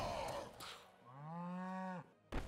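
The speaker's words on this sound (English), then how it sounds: "The cows are out." A cow in a video game lets out one drawn-out moo, loud and close, after brief clicks and interface sounds.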